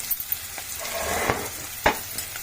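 Two sprigs of curry leaves hit hot oil in a pan where bitter gourd has just fried, making a soft, continuous sizzle with a couple of distinct stirring clacks up close.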